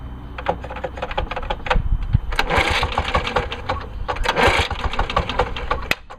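A lawn mower engine sputters as someone tries to start it, giving uneven pops and rattling bursts with a couple of louder surges, up close and loud, with no speech.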